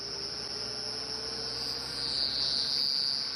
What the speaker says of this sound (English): There are lots of them around here.